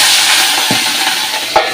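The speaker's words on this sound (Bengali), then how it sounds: "এবারে মাছটা দিয়ে দিই।" Fish frying in hot oil in a pan gives a steady, close hiss and sizzle with a couple of soft clinks, and no talking.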